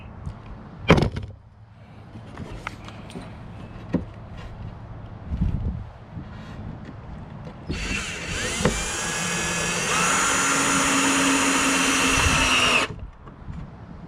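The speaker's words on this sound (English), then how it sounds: "So you should probably just drill it." After some knocks and handling noises, a power drill whirs loudly for about five seconds, its pitch dropping as it bites into wood.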